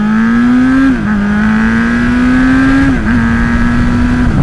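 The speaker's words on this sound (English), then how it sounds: "And listen to that engine." An MV Agusta Brutale 1090RR engine is held at a high, steady rev with a buzzing drone, dipping briefly twice before climbing back up.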